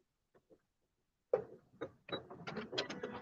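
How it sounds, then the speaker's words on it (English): A sewing machine sews a short lock stitch while making a quillow from Luxe Cuddle fabric: a couple of faint clicks, then close, rapid mechanical whirring and clattering in two short bursts, with no talking. "we'll do a little lock stitch."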